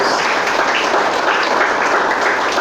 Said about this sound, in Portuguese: Pode aplaudir e glorificar.